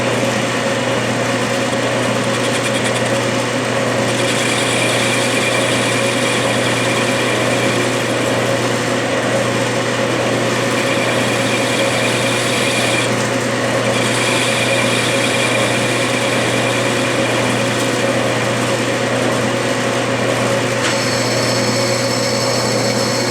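Continuous steady machine hum with a high whining tone, a metal lathe facing the end of a 3/4 inch drill rod, loud and unbroken at constant pitch with slight tonal shifts.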